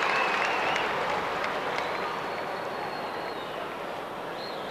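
A large crowd at a 1989 Leinster hurling championship match between Kilkenny and Wexford applauds a point, a dense sustained wash of clapping that slowly eases over several seconds.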